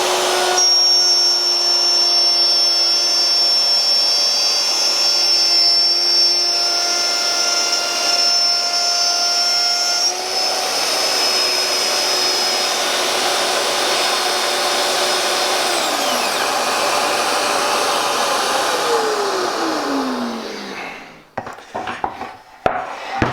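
Festool OF 1400 plunge router set to speed 6 and plunged into a cut, a loud steady high-pitched motor whine under load that winds down at the end, followed by a few clunks and no speech.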